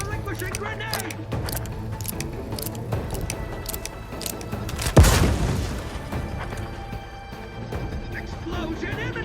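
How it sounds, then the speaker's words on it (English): A grenade explodes in the video game The Outer Worlds 2, one loud booming blast midway through, set against continuous game sound and character voices calling out before and after. "Explosion imminent!"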